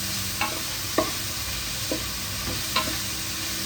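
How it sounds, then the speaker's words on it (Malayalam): Food is stir-fried quickly in a pan, with a continuous close sizzle broken by several sharp spatula scrapes at uneven intervals. "പെട്ടെന്ന് ഞാൻ വതക്കി എടുക്കുകയാണ്"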